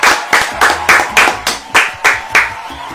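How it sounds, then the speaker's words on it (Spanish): About eleven sharp, evenly spaced hand claps come from a small group of people, loud and close, in a home kitchen setting with no talking over them. "Felicidades, pues un aplauso por ahí."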